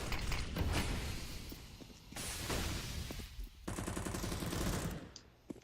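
Desert Eagle pistol fire in a competitive shooter game match, a run of sharp shots and bursts trading back and forth amid dense gunfight noise, with no talking.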